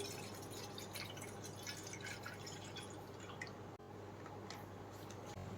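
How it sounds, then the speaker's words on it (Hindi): Milk pours into a cooking pot, a topiya already holding a little water, while kheer is being made: a faint, steady liquid stream and drip that runs unbroken for several seconds with a brief break near the end, with no voices. "अब हम डाल रहे हैं टोपिया में दूध।"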